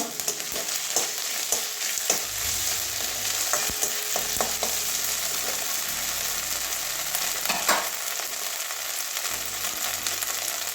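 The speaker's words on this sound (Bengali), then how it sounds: "এবারে এক চামচ আদা রসুনের পেস্ট দিয়ে দিচ্ছি এটা ভেজে নেবো কাঁচা গন্ধ যাওয়া পর্যন্ত" Ginger-garlic paste frying with onions in hot oil in a home kitchen, a steady close sizzle with scraping stirs and spoon clinks throughout, no one talking.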